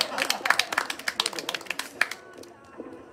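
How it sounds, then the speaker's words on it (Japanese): Scattered hand claps from a small crowd at a motorsport award ceremony, Setonaikai Series round 5, loose and uneven for about two seconds before fading into quieter room sound with faint voices. "拍手をお願いします。"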